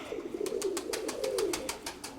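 A pigeon coos nearby in a soft, repeated rolling pattern, the throaty murmur running steadily under a series of regular sharp ticking clicks.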